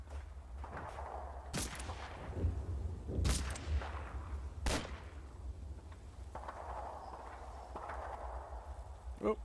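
German soldiers' gunfire in the Combat Mission: Battle for Normandy wargame, a few sharp, scattered shots and bursts over low rumbling battle ambience, with brief speech-like sounds mixed in.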